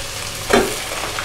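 Mutton mince dropped into a hot pan with ginger-garlic paste gives a short, sharp sizzle burst midway, then a steady low frying hiss.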